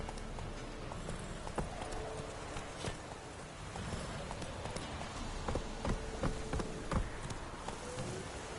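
Horse hooves clip-clop steadily in a PS4 video game, a continuous trotting rhythm over a busy background of game ambience, moderately loud throughout.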